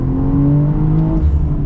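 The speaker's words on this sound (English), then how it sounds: "Love the burbles at the exhaust." BMW M340i accelerating hard, its exhaust giving a loud, steady low-pitched drone with rising engine harmonics heard close from the cabin.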